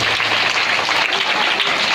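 A crowd at a Shrimad Devi Bhagwat Katha religious discourse claps loudly and steadily, a thick, continuous wash of applause with no break.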